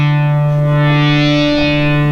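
Behringer synthesizer, a 2600 or Odyssey, holds a bright sustained buzzy tone with its filter sweeping up and down, thick with distortion and echo, loud and alone for about two seconds.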